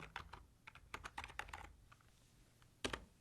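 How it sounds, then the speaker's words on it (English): Quiet keys tap on a computer keyboard, a quick burst of close clicks as a word is entered, a short pause, then one firmer keystroke at the end. "I'll type in the word January"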